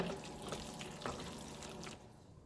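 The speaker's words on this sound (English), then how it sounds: "Now I'm just going to mix and combine." Chopped chicken being stirred into creamy macaroni and cheese for buffalo chicken mac and cheese, a soft, continuous wet squelching and scraping with small clicks throughout, close and fairly quiet, easing off near the end.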